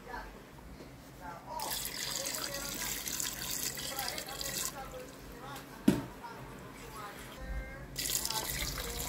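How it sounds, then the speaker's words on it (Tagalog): Water runs from a tap into a cooking pot while Spanish-style milkfish (bangus) is being prepared, a steady mid-level splashing stream with brief pauses, one sharp clunk partway through, and people talking over it. "Lagyan mo lang tubig."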